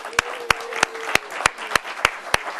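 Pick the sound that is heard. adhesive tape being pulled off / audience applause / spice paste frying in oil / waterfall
audience applause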